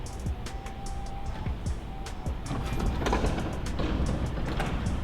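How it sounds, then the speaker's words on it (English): A Guardian side mount garage door opener, model 928 keypad setup, raises the door: short keypad beeps and clicks, then a steady motorized rumble and rattling that grows louder and runs to the end, close by. "Now let's put the code in again to run the door up."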